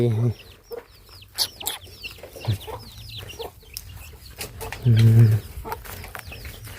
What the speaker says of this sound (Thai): เลี้ยงเป็ดเลี้ยงไก่